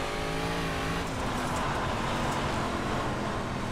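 Race car engine in a dirt-racing video game, a loud steady mechanical roar with tonal revving that slides downward and then holds as a constant drone.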